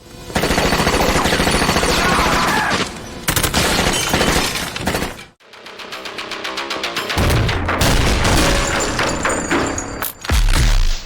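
Rapid gunfire from the top-down shooter video game OTXO comes as dense, loud bursts of shots and impacts, broken by a brief silence in the middle and backed by busy game sound.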